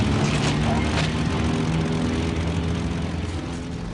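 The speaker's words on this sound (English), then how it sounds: "88mm anti-aircraft shells explode around the plane." A bomber plane's engines drone steadily and loud in a dense, continuous roar, with a muffled boom from 88mm anti-aircraft shells bursting nearby; no distinct separate blasts stand out.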